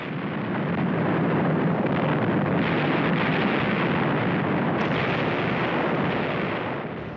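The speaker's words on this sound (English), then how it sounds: "The largest invasion fleet since the Second World War bombards the port of Incheon." Archival naval bombardment of the port of Incheon at dawn by a large invasion fleet in September 1950, a dense, continuous roar of gunfire and explosions blending into a loud, sustained rumble with no distinct individual shots.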